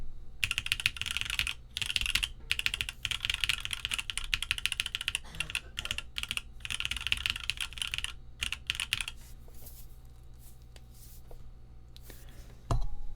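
Typing on a mechanical keyboard with PBT keycaps, Coco Black switches and a polypropylene plate: steady close, deep clacking keystrokes in quick rhythmic bursts with a few short pauses, heard alone.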